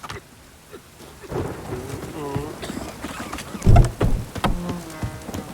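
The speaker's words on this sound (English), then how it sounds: "A storm, damn it." A rainstorm in the PC game Witcher 3 (Next Gen update): rain hisses throughout while a deep thunder rumble swells about midway and fades, with scattered voices and calls over the storm.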